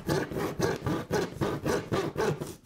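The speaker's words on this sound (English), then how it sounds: "it's nice to have a good sharp handsaw." Sharp handsaw cutting through a wooden wall stud, with quick, even back-and-forth rasping strokes at close range, about eight strokes in a steady rhythm and no talking.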